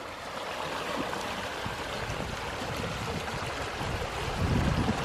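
A river in flood rushing fast past its bank, a continuous loud wash of turbulent water that swells slightly near the end.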